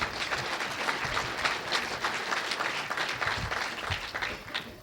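An audience at a Cook County assessor's talk claps warmly for a young staff member, a steady wash of applause from many hands with no voices over it.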